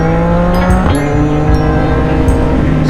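A CFMOTO 675NK motorcycle with a full-system aftermarket exhaust revs loudly and steadily close by, its throaty exhaust note rising and settling a few times, with no voices.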